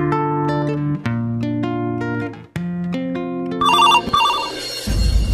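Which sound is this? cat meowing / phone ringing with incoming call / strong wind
phone ringing with incoming call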